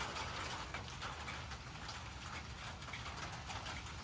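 Steady broadband hiss of rain falling on a surface, with a few scattered drop taps over a continuous wash throughout.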